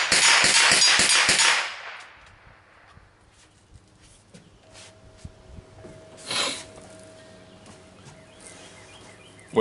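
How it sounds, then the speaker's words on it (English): Six rapid gunshots fired downrange from a firearm fitted with sound mitigation equipment, packed into a loud burst at the start, then a quiet outdoor lull with faint scattered sounds. "Okay, a few shots downrange with the sound mitigation equipment in place."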